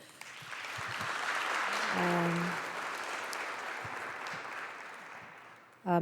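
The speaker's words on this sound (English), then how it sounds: "I think we can give them a round of applause" Steady applause from an audience at an agricultural investment conference fills the room for several seconds, with a brief voice mid-way, then fades before a sharp sound at the end.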